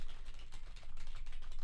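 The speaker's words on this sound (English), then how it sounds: "So I'm just gonna type and talk at the same time" Typing on an old HP mechanical keyboard, heard as a dense, steady stream of clicky keystrokes close to the microphone, with no talking.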